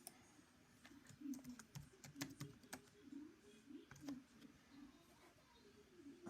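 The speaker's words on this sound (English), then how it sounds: "Hopefully I typed it in right." Password being typed on a computer keyboard: quiet, irregular key clicks in short bursts, with a faint voice murmuring in the background.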